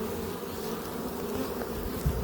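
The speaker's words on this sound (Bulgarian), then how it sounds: "пчелички лека по лека вече започват да влизат" A large honey bee swarm crowds into a hive, a dense, steady buzzing drone of many bees close by, continuous and fairly loud, with no voices.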